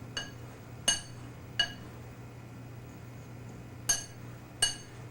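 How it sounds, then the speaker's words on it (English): A spoon stirs baking soda into cookie dough ingredients in a bowl, giving five faint, sharp clinks at irregular intervals against a quiet, humming background. "3/4 of a teaspoon of baking soda. And you just want to stir this up a little bit."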